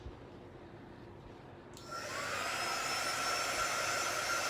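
A handheld heat tool switches on partway through and blows a steady, loud whirring airflow over chalk paint on a waxed wood surface, following a quieter stretch of low room noise.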